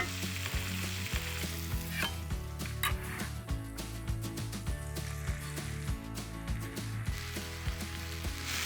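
Garlic and vegetables sizzle steadily in a packed frying pan, a continuous close crackle with occasional scraping and clinks of a utensil stirring, and no voices.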